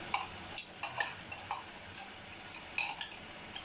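Chicken pieces fry in a pan for a curry with a soft, steady sizzle, broken by several light scraping and clinking stirs in an irregular rhythm; no one speaks.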